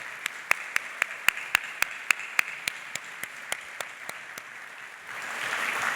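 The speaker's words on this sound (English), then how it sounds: "So let's give them a round of applause" Sparse, slow applause from an alumni awards audience at Minnetonka High School, individual claps ringing out one by one before a broader wash of clapping swells near the end.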